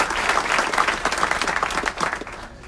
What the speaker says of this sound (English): Another big round of applause for Anna Pace.